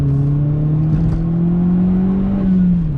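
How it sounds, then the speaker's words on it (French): Exhaust of a 180 hp Opel Astra OPC accelerating, a steady loud droning engine note that rises slightly in pitch as it pulls, heard from inside or close by with no talking. "Ah, le bruit de l'échappement, c'est assez sympa."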